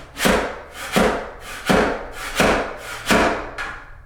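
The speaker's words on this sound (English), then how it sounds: "I thought a scraper on a pole would work." A scraper on a pole is pushed across carpet pad staples in six rhythmic strokes, each a rough, rasping scrape that swells and fades, close and fairly loud.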